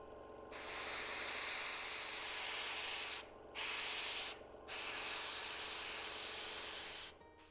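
Airbrush spraying a light mist of weathering paint onto a pannier tank model locomotive: a close, steady airy hiss in three sustained bursts separated by short breaks, with no talking.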